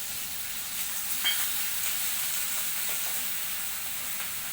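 Raw tomato vegetable sizzling and steaming in a pan after a splash of water, a steady close hiss of frying running for several seconds with no voices.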